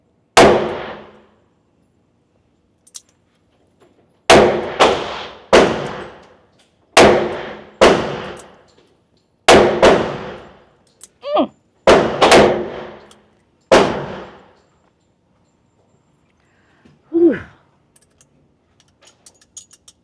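A Smith & Wesson 637 revolver fires about a dozen sharp, loud, close shots in uneven groups, each snapping crack decaying quickly, with quieter clicks and handling noises between.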